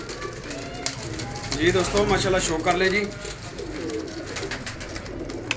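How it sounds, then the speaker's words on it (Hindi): Sialkoti and Faisalabadi Jaunsri pigeons in Faisalabad coo in deep, rolling calls, loudest in the middle stretch, while someone talks over them. "सियालकोटी जौनसरे और फैसलाबादी जौनसरे कबूतर हैं जनाब"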